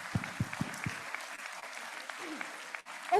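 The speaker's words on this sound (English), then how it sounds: "Round of applause for Chancellor, sir." Scattered, fairly quiet clapping from a university inaugural ceremony audience honoring the Chancellor, with a few louder individual claps early on and low hall murmur throughout.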